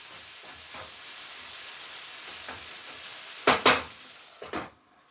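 Fajitas sizzle in a hot pan with juices in it, giving a steady close frying hiss. Louder bursts of spattering near the end suggest food being stirred or added.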